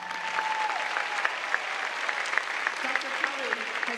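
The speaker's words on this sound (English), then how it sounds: "I think that deserves applause." Applause rises at a 2016 morning commencement ceremony. A large audience claps steadily with sharp individual claps standing out, while scattered voices and whoops carry underneath.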